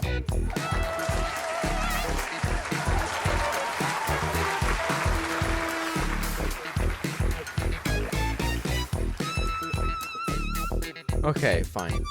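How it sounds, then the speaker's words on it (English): Sustained studio audience clapping on a late-night talk show set, dense and loud throughout while a host speaks over it. "You don't have to keep clapping."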